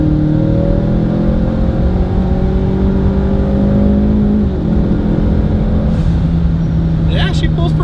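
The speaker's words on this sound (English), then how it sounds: "So we're taking it for a spin now. It's a 500 horsepower EcoBoost." A 2.3L EcoBoost Ford Mustang with an NX2 turbo, around 500 horsepower, drones loudly from inside the cabin on a low-traction spin, its engine tone holding steady and then shifting midway while people talk over it.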